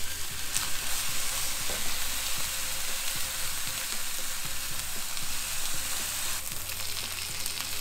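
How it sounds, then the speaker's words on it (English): Bacon fries in a pan with a continuous loud sizzle and crackle, close up, with faint stirring scrapes and no talk. "So let me cook my meat, cook my bacon."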